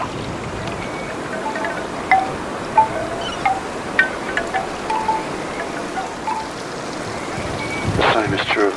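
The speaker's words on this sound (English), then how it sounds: "The same is true of the sounds of the wind in the trees." Wind gusts through trees alongside falling rain, a broad steady rush with scattered drop impacts and brief chirps, swelling louder near the end.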